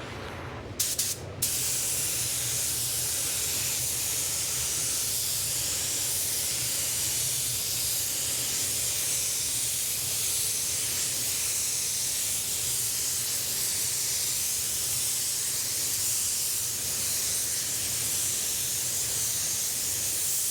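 Paint spray gun with a 1.3 tip laying Spies Hecker base coat in a blend, a loud continuous hiss of air and atomized paint after a brief initial trigger burst, steady throughout with no voices.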